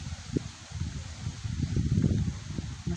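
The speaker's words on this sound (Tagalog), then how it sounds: "Masarap ang simoy ng hangin." Soft breeze stirs leaves in a backyard hangout spot, a steady low rustle with gentle swells and a few faint knocks, fairly quiet and close.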